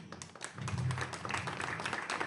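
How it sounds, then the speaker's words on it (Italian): Scattered hand claps from a small audience at a book presentation, applauding Gaetano Coccimiglio. Separate sharp claps at first, then a thicker patter that continues under a low hum for a couple of seconds. "facendo un applauso a Gaetano Coccimiglio"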